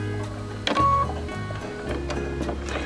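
A home sewing machine hums steadily as it slowly stitches back over an existing seam on a scrappy mock cathedral windows table topper, with the needle stopping down at one point. The motor sounds close and even, broken by a few soft clicks.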